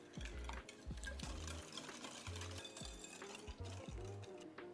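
A whisk stirs eggs into a bowl of carrot cake batter, making quick, faint clinking and scraping strokes in a steady rhythm, close by and heard alone.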